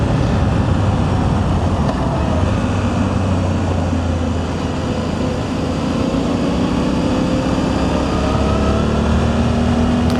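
A Suzuki V-Strom 800 motorcycle pulling uphill in third gear on twisting mountain roads, a loud, steady engine drone mixed with wind rush, holding a constant pitch throughout with no speech.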